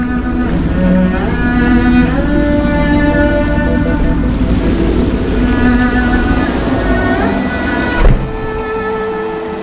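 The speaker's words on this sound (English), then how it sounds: "I should concentrate on piloting this boat" A steady boat motor drone in the video game Dishonored, with shifting tonal hums and water wash, loud and continuous, with a brief thump near the end.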